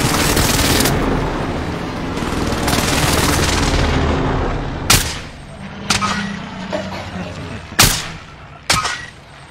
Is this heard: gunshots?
yes